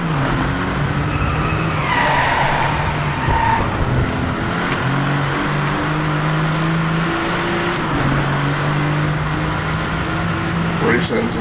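Race cars in the Driveclub racing game on PS4 roar with steady droning engines, shifting pitch through gear changes, with tire skids and squeals layered in during cornering; the engine sound is continuous and loud throughout.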